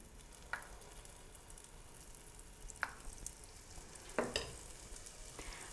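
Dahi bhalla batter fries quietly in hot oil over a low flame, a faint steady sizzle marked by a few sharp clicks and taps of a spoon.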